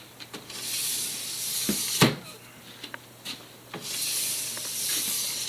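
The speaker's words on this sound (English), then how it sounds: "we're going to scrape until there's not a lot coming off on the scraper" Plastic scraper drawn along a waxed ski, giving repeated hissing scrapes of uneven length, close up, with a few sharper knocks between strokes.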